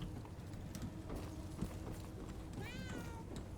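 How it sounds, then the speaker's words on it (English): A cat in the video game Murdered: Soul Suspect gives a single short, faint meow late in the moment, under steady low ambient noise. "Kitty cat."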